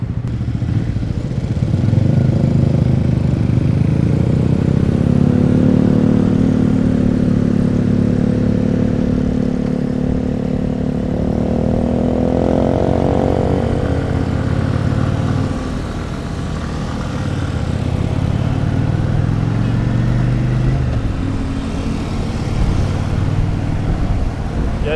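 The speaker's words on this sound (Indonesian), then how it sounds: "Putaran menengah ke atas motor ini cukup kencang." Kawasaki VN 800 C Drifter motorcycle from 1999, its V-twin engine revving up and easing back in loud, close, sustained pulls with a steady low rumble, no talking over it.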